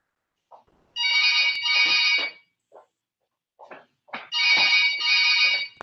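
A mobile phone ringtone for an incoming call during a university induction session, two bursts of a bright repeating electronic melody separated by a pause, loud and close with no talk.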